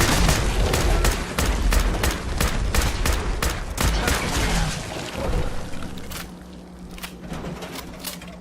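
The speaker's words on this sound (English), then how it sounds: "do not get that close while I'm throwing grenades" Rapid gunfire and explosions in the VR video game Fallout 4, a dense loud barrage of sharp repeated cracks and booms that thins out into spaced single shots toward the end.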